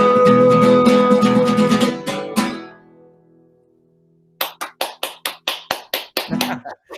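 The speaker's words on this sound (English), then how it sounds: "Nice to hear the clapping." At a talk and concert about the Northwest Passage, a song ends with sustained voice and instruments that fade to near silence, then an audience breaks into sharp, regular clapping, close and crisp.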